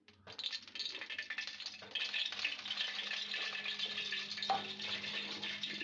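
Plenty of oil heating in a kadai before potatoes are fried for aloo posto, giving a steady, close sizzling hiss that runs throughout with faint rattling.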